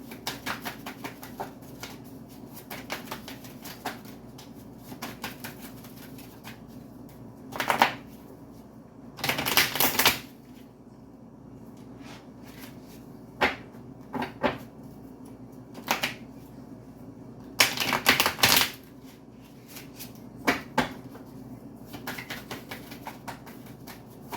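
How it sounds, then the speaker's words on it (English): Playing cards riffled in a few separate bursts, each a quick fluttering rattle, with quieter tapping and handling between them; nobody speaks. "Two more shuffles and I'll pull from the top."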